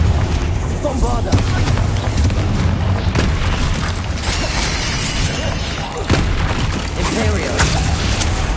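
Bombarda and Confringo spell blasts in Hogwarts Legacy go off in quick succession, dense booming bursts and whooshes piling into a continuous loud roar with a voice talking throughout.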